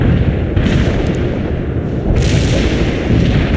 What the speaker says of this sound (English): Heavy artillery here.